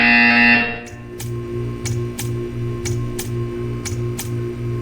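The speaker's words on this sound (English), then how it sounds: "You will hear a buzzer." A steady, evenly pulsed buzzer from Portal 2 repeats about eight times over a few seconds, each short pulse ticking against a low background hum after a louder opening tone fades.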